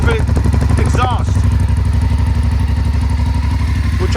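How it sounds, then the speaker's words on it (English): A 2019 BMW F850GS Adventure motorcycle fitted with an Akrapovic exhaust idles close by, a steady, loud low burble with a pulsing, even beat, while someone talks over it at the start. "this bike also came with the AKRAPOVIC exhaust"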